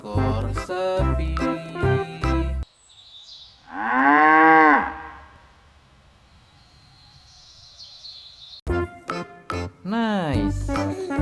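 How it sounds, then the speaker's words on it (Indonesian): A toy cow from an animal figure set gives a drawn-out electronic moo lasting about a second, set between bright toy jingle music before and after. "Keluarlah seekor sapi."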